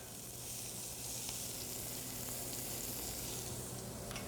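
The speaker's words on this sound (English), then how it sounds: "And now the mirepoix goes right in there, straight in there." Onion, celery and carrot mirepoix sizzles steadily in hot pan drippings, a continuous broadband hiss at close range that holds even throughout with no voices.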